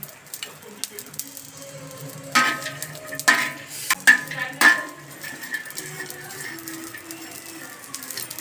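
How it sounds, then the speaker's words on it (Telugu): Spices sizzling in hot oil in a pan for a home-style curry, a steady low crackle with a few sharper clinks and scrapes of stirring, fairly close and moderately loud. "చూడండి ఫ్రెండ్స్ ఎట్లా వేగుతున్నాయో"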